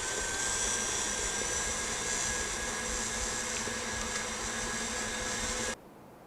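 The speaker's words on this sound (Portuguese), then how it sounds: "Agora a gente vai ligar essa batedeira em velocidade máxima" Stand mixer whirring steadily at maximum speed, a loud continuous motor whine that cuts off abruptly near the end, leaving quiet room tone.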